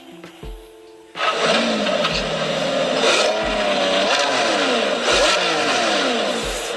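After a brief click and a start, a Lamborghini Revuelto engine roars through hexagonal tailpipes and revs repeatedly, pitch climbing and falling in loud, close bursts.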